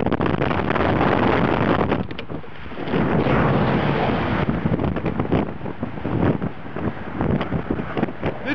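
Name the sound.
strong wind by the Pacific Ocean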